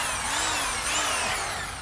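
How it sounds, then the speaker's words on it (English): A power drill bores drainage holes into the bottom of a wooden flower box, a loud continuous whine with a slight dip in pitch as the bit bites, close up and with no talking. "we're gonna drill some drainage holes in the bottom of the box right here"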